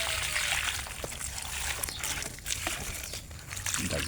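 Water trickling and splashing onto backyard plants during hand watering, a steady close wash of liquid with faint crinkling of leaves and no speech.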